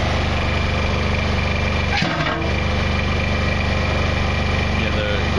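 Kubota BX compact tractor engine running at a steady idle, a constant close buzzing drone with a brief dip and knock partway through.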